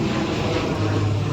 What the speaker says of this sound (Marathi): इकडं चाललाय विमान.